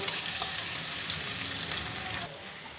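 Onion and chili with garam masala frying in a pan toward golden, a close, steady bright sizzle that holds evenly and drops slightly near the end, with no talking.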